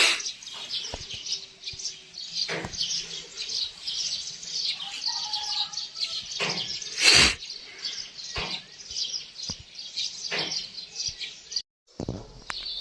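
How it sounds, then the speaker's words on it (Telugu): Morning birdsong at Tawang Monastery in Arunachal: many small birds chirp and tweet in repeated bright bursts over a constant outdoor hush, some calls close and sharp, others farther off, with no talking. "పక్షుల కిలకిల రావాలైతే ఎంతో వైపునిచ్చాయి నిద్ర లేవంగానే అయితే"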